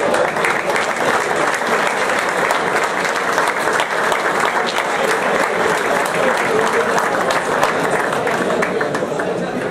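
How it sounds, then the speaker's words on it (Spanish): A crowd applauds steadily at a 2012 youth football tournament medal ceremony, honouring standout players from clubs such as Club Atlético Sarmiento de Junín. Dense, continuous clapping holds at an even level throughout with no break. "Fuerte el aplauso para todos ellos."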